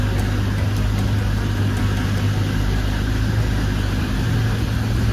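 An accident-damaged car with a broken rear bumper rolls forward in drive, its engine giving a steady, close, low humming drone that holds even throughout, with no talking.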